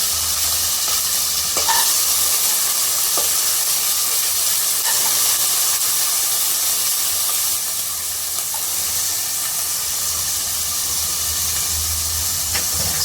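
Brinjal, small potato, chickpeas, coriander and curry leaves fry in oil in a pan, giving a steady, bright sizzling hiss that runs continuously with faint clinks of stirring and no talking.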